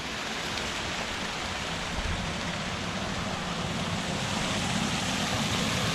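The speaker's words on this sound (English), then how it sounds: "Hey, a little waterfall." Small waterfall on the Oregon coast near Sunset Bay, a steady, dense rush of falling water heard up close, loud and unbroken throughout.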